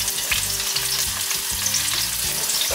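Ginger slices fry loudly in a wok, giving a dense, steady sizzle close by with occasional stirring scrapes, and no one speaks.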